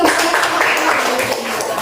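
Applause from a class in an Indonesian school after a group discussion: a dense, steady patter of many hands clapping together, fairly loud and continuous for about two seconds.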